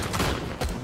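Rapid gunfire in the top-down shooter Tango Fiesta, a dense, continuous barrage of shots with a few sharper bursts standing out, loud and close with no talk over it.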